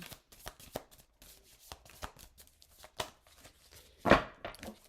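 Tarot cards being shuffled by hand, a close, quiet series of soft riffling slaps and flutters at an uneven rhythm, with one louder brushing burst near the end.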